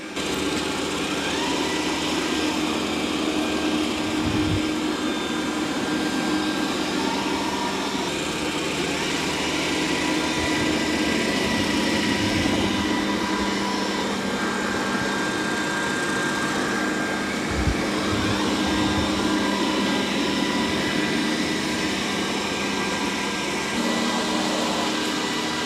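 A Dreame D10 Plus robot vacuum and mop runs continuously while mopping a muddy floor, a steady mid-loud motor whir with a few soft bumps and shifts, no voices.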